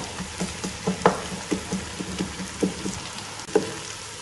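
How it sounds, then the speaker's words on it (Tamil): Onions sautéing in oil toward golden brown for a chicken biryani, a soft steady sizzle punctuated by frequent spatula taps and scrapes against the pot, close and without talking. "நல்ல ஒன்று போல கோல்டன் கலர் வர்ற வரைக்கும் நம்ம வதக்கிக்கணும்"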